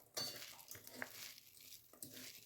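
Banana flower vada batter is mixed by hand, producing faint, irregular squelches and soft clinks of a bowl in short bursts, with no speech.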